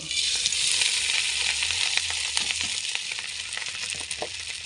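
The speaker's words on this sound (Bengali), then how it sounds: "এবার ভাজতে থাকবো খুদগুলো" Broken rice (khud) frying in a pan with onion, egg and fried shallots, salt and turmeric added; a steady, loud sizzle with scattered crackles and stirring scrapes throughout, no voices.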